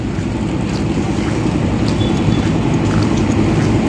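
A boat engine drones steadily as the boat moves slowly against the current on the Pasig River, over lapping water, with wind buffeting the microphone throughout; no voices.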